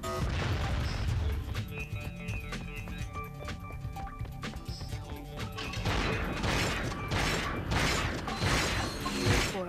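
In Ratchet and Clank 2, a bolt crank mechanism turns with dense metallic clanks, ratcheting clicks and grinding creaks that repeat steadily over a busy game background, growing louder and more clattering toward the end.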